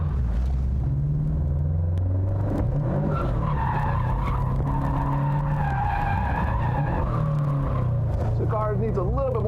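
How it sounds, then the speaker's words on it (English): Drift car engine rumbling loudly through a clutch kick, with tire skid and squeal, near and continuous, and a voice talking over it. "Now we're going to get ready for our drift section. So we'll start with the clutch kick."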